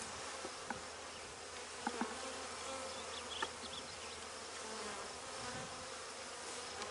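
A steady, close buzz of Italian hybrid honey bees fills the air at an open hive, a continuous drone with a few brief louder knocks from the hive.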